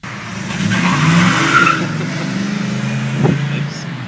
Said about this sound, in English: Cars driving through the neighborhood or neighbors honking their horns or squealing tires.